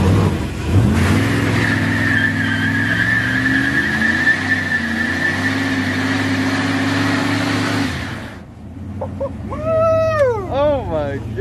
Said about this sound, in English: I'm about to make these tires smoke